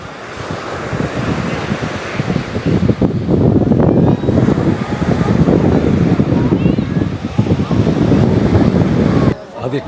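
Ocean waves wash onto the beach at Ho Tram in Vietnam, a loud continuous surf roar with heavy wind buffeting the microphone and faint voices of beachgoers mixed in.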